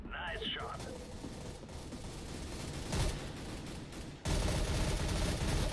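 Automatic gunfire in Counter-Strike: Global Offensive rattles in quick bursts, with a louder shot partway through and a sudden harsher stretch of firing near the end, under someone speaking German.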